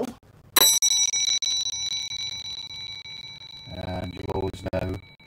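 A bright bicycle-style bell rings once, sharp and close, its tone lingering and fading, with a short burst of other noise near the end.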